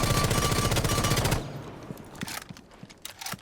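Sustained rapid automatic gunfire rattles at a shooting range in Rainbow Six Siege, loud and continuous for over a second, then scattered single shots and impacts follow.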